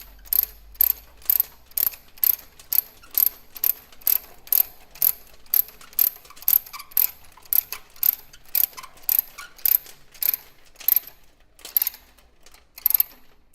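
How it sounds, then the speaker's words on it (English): A ratchet handle is cranked to take up tension, giving a close, crisp series of about two dozen evenly spaced clicks in a steady rhythm, with no talk. "now we're just going to turn this handle to take up the tension"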